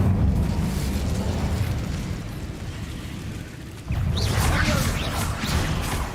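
Incendio fire spell bursting in Hogwarts Legacy, a loud rumbling blast that fades over several seconds, then a second fiery whoosh and roar kicks in near the end.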